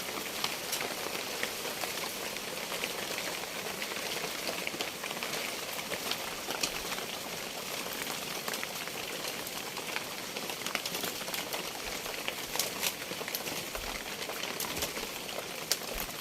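Heavy storm rain pounds steadily on a tent roof in a forest farm setting at night, a dense continuous hiss with scattered louder drop impacts throughout.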